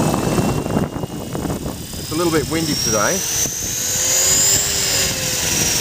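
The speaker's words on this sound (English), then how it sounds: "Now it spools up nicely, and then it just sits at a fixed RPM" A Mini Cylon RC helicopter spools up in governor mode and then holds a steady fixed-RPM whine in windy outdoor conditions, loud and close, while someone talks over it.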